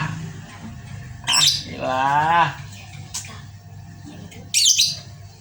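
A bird gives a few loud, harsh squawks and a warbling call, with short bursts spread over several seconds against a quiet background.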